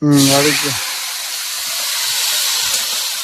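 Onion and tomato hit hot oil in a pan for prawn thokku, a loud burst of sizzling that settles into a steady, close hiss. A voice is briefly heard at the very start.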